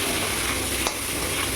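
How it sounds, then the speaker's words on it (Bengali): Prawns fry and sizzle in a pan with turmeric and salt, a steady close crackle with one brief stirring scrape partway through. "একটু ভাজা ভাজা হোক"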